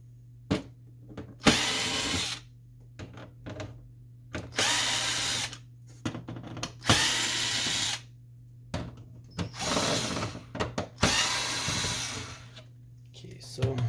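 Power drill backing screws out of an HP Officejet 6978 printer, heard as a series of short, loud whirring bursts with brief pauses and clicks between them, close up over a steady low hum.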